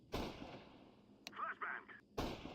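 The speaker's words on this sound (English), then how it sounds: "I'm throwing a flashbang." A flashbang grenade in Counter-Strike detonates in two sharp, faint bursts, with quieter in-game clatter and tones in between.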